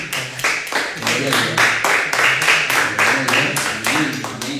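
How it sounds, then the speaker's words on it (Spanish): A church congregation claps loudly and rhythmically in quick, regular beats that continue without a break, with a busy room around them. "¿Cuántos le brindan un fuerte aplauso al Señor?"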